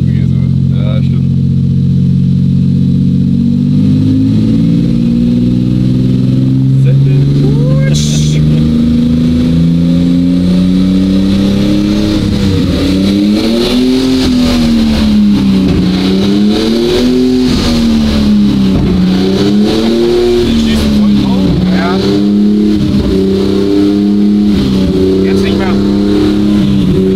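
A car with a Toyota 2JZ engine pulls hard through the gears, its loud engine note climbing and dropping with each shift and wavering under load, heard from inside the cabin as people talk over it.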